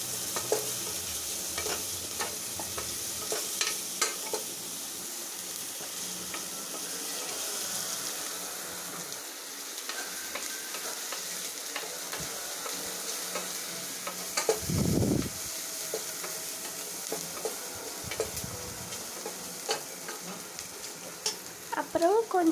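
Onion sautés in a pan for corn soup, giving a soft, continuous sizzle with scraping stirs and occasional clinks of the utensil against the pan.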